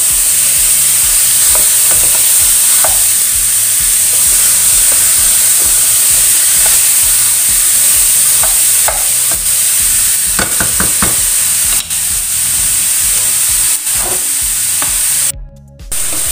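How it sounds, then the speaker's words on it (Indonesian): Chayote, white radish and carrot stir-fry in a hot pan, giving a loud, continuous hissing sizzle broken by occasional scrapes and clacks of a spatula. "Kemudian tumis semua sayuran ini sampai dengan agak sedikit layu ya."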